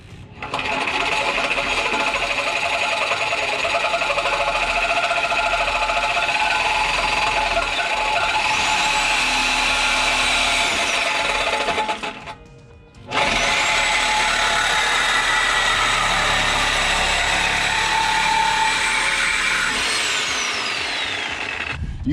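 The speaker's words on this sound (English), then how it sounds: "We cutting pipes today." A power tool cuts through the exhaust pipe of an MK7 Volkswagen Jetta 1.4T with a loud, continuous high-pitched whine. It runs for about twelve seconds, stops briefly, then starts again for a second long, close cut.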